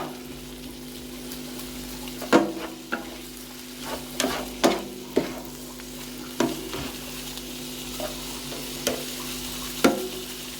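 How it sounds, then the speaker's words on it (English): Onions fry in a pan for chow mein, a constant sizzling hiss under a hum, with a spatula periodically scraping and clacking against the pan, close and without speech. "You can also fry up some onions too."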